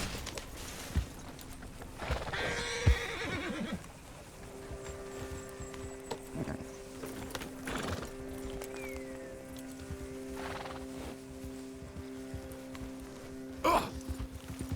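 Horse hooves clop intermittently with a brief whinny, set against an ambient Red Dead Redemption 2 soundtrack with sustained tones and occasional thuds.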